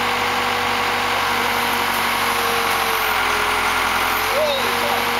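A backhoe engine idles nearby on Salt Spring Island during a park bench installation. It gives a steady mid-pitched drone with a faint whine, and there is no talk.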